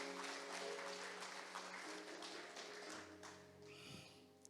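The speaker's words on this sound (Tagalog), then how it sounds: "Sige, malakas sa palakpak kay Jesus." Congregation at a Sunday church service clapping together, a broad steady patter of many hands that carries on for several seconds beneath sustained organ or keyboard tones, easing slightly toward the end.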